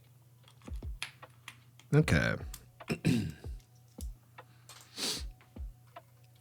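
Mechanical keyboard clacking in short irregular bursts of keystrokes, close and fairly loud, with a voice speaking briefly between them.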